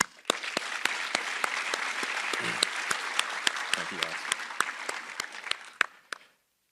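Audience applause fills the hall at a DeKalb County Fire Rescue graduation, steady clapping with sharp individual claps standing out and a couple of cheers, while someone briefly speaks before it fades out.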